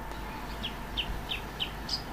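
A bird call in the Mammoth Hot Springs area of Yellowstone, a series of five or six short high chirps at an even pace over a steady background hiss, moderately faint and alone without talk.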